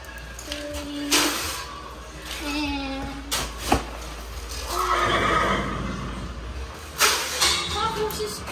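Several horses neigh and whinny in bursts, close by, with a few hooves shuffling and a voice speaking briefly between the calls.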